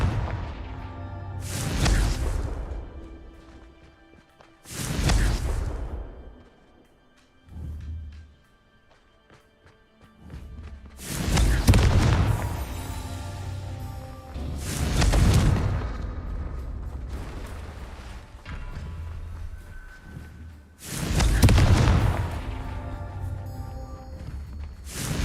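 The Confringo explosive spell bursts repeatedly in Hogwarts Legacy, giving about six loud booming blasts that are spaced irregularly, each decaying into a rumble, with quieter whooshes and effects in between.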